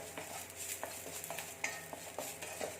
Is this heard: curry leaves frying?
yes